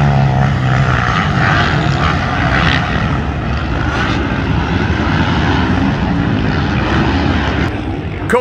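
Pro-class motocross dirt bikes race on the rough, whooped-out Southwick MX track during a Loretta Lynn's qualifier, their engines a loud, continuous roar that fills the whole stretch with no pauses.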